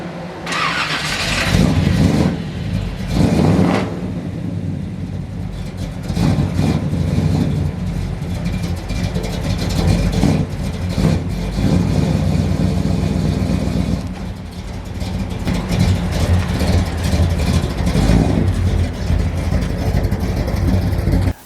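A Small Block Chevy 350 V8 fitted with a new HEI distributor idles with a loud, rough rumble up close and is revved in several surging bursts, running steadily throughout with no talking.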